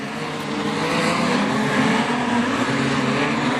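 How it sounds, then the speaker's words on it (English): Modified sedan race cars circuit Kingaroy Speedway in a heat race, a continuous droning roar of engines heard from a distance and holding fairly steady throughout, no one speaking. "the modified sedans are back underway"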